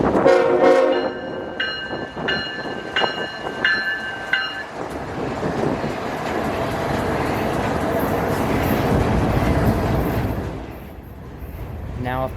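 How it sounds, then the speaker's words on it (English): A freight train hauling intermodal cars rolls slowly through Cartersville, its horn sounding in several blasts early on before a long, steady rumble of wheels and cars takes over, with a voice heard briefly near the start. "why is this train crawling through Cartersville?"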